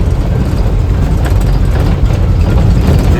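An overnight long-distance bus engine rumbles at a roadside stop in rural Konkan, a loud, steady, low drone that continues without a break and has no speech over it.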